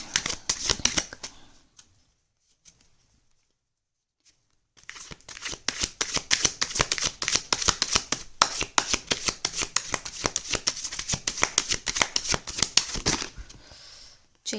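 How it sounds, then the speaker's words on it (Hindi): Tarot cards get shuffled in quick, crisp riffling bursts, a short flurry first, then a pause of near silence, then a longer run of dense, rapid card flicks close to the microphone. "एक शफल और कर लेती हूँ प्लीज़ डिवाइन।"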